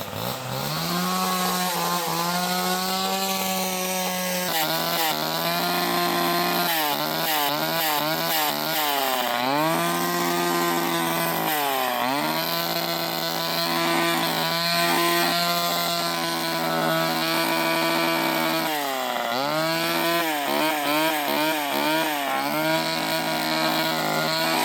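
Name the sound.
Poulan 245A chainsaw running, cutting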